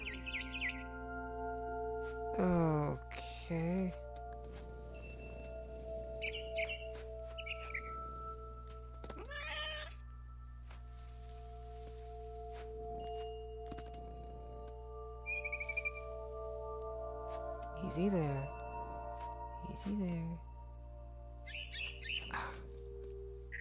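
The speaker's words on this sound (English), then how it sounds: "Then I heard chirping outside my window. It was a barn swallow going back to her nest." Barn swallow chirping in the video game What Remains of Edith Finch, bright repeated tweets and short calls scattered over a steady low hum, while a voice speaks briefly now and then.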